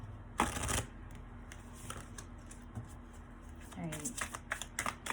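Tarot cards are shuffled in short, scattered bursts of riffling and snapping, close by, with a brief voice-like sound partway through.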